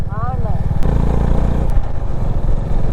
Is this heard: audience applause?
no